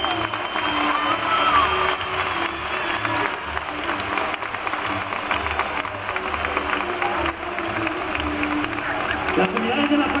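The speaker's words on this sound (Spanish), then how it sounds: "Un fuerte aplauso para Vespa." An audience at an armed forces exhibition applauds steadily, a continuous patter of clapping with a faint cheer, while a voice speaks briefly in Spanish over it.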